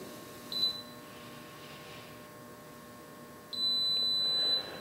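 The digital controls of a Cadco XAFT oven give a short beep first, then a sustained, elongated high beep about a second long, clear and close in a quiet room.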